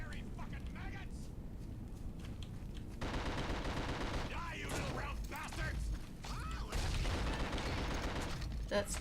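Gunfire in the horror video game The Suffering, bursts of rapid shots and mechanical clatter that grow denser partway through, with players talking over the game sounds.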